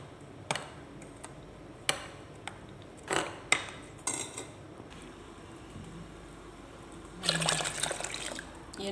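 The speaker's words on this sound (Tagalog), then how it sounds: "hahaluin ko na lang yung powder, tsaka tubig kailangan" A spoon stirs coconut milk powder into water in a pot for biko, soft intermittent clinks and scrapes with a gentle liquid swish near the end, quiet and close, with no talk.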